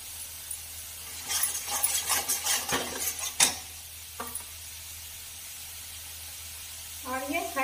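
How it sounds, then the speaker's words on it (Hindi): Masala frying in a pan with kasuri methi and green coriander being stirred in, giving a close scraping and clinking of a spoon against the pan over a soft sizzle, with a short burst of stirring near the end. "मसाला को अब अच्छे से फ्राई कीजिए"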